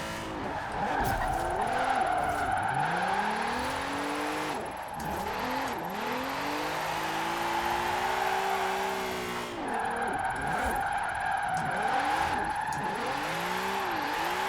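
A drift car in Forza Horizon 4 with a wheelspin build and very quick gear changes screams steadily at high revs, its engine note dropping and climbing again through repeated rapid shifts over continuous tire squeal, loud and close.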